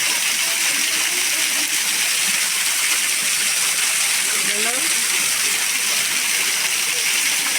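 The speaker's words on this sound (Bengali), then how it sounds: "অঝোর ধারে বৃষ্টির শব্দের মতো ঝর্ণার পানি বয়ে চলে" Cold water pours down Himchari waterfall in Bangladesh, a steady, dense rushing roar like heavy rain that holds level throughout, with a faint voice briefly audible midway.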